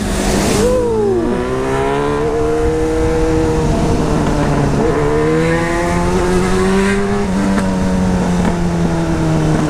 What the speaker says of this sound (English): This exhaust is crazy today.